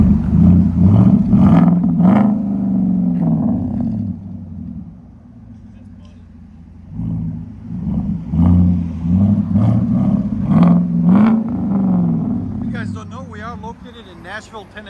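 A 2018 Chevy Silverado Z71 with a 5.3L V8 and Flowmaster Flow FX true dual exhaust rumbles and revs in deep, loud pulsing bursts that dip and swell again, with people talking over it near the end.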